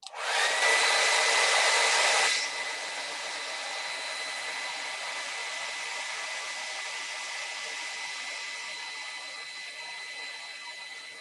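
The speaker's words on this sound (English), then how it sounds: "So I'm going to dry this really quickly." Handheld hair dryer blowing on wet acrylic paint on a canvas: a loud, steady whooshing roar for about two seconds, then a quieter continuous airflow hum that carries on to the end.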